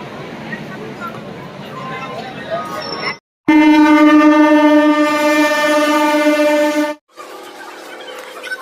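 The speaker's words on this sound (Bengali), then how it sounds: "ট্রেন দীঘা যাওয়ার ট্রেন ঢুকছে 13 নম্বর প্ল্যাটফর্মে" A Howrah–Digha EMU special pulls into platform 13 of a crowded station: rumbling wheels and carriages up close, then a long, loud horn blast of about four seconds, with the rumble resuming after it.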